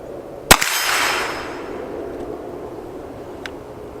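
A single sharp shot from a Hi-Point 995ts carbine fired at steel targets on an outdoor range cracks loudly and decays into a brief echo, followed seconds later by a faint, short tick.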